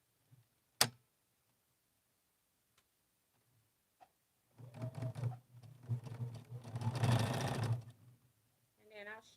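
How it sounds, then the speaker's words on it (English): Sewing machine stitching a quilt seam, a short rapid run of stitching with faint ticks, mixed with a person talking nearby. "My machine is just stitching in place."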